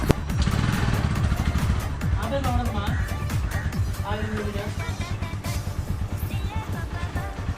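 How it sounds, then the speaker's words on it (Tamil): A freshly serviced, oil-changed motorcycle idles and putters with a rough, throbbing engine note, close and steady, while someone talks over it. "பைக்கில் சவுண்டெல்லாம் ஓகே தாங்க இருக்குது."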